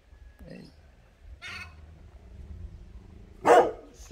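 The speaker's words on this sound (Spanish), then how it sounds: "porque si lo hago rapidito, el perrito me ataca" A ranch dog gives three short, separate barks, one soft, one sharper and a louder final bark, at a moderate distance in a quiet outdoor setting.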